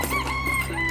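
A rooster in the Arc Raiders video game crows once, loud and close, filling the whole second over a low steady background hum.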